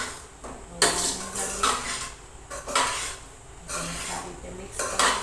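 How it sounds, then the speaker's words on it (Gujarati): A spoon stirs poha (flattened rice) and potatoes in a metal pan, making repeated scraping and clinking strokes in bursts with a soft sizzle between them, close to the listener. "સારી રીતે મિક્સ કરીશું."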